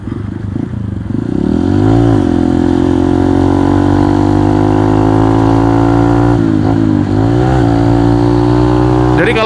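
A light trail motorcycle engine revs loudly and close up, its pitch rising and falling in repeated throttle blips over a steady idle rumble, with no talk over it.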